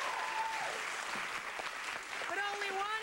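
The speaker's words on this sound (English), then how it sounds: "I think they all deserve a round of applause, don't you?" Studio audience on a daytime television talk show applauding contestants after their confessions, a dense even wash of clapping with a voice speaking over it.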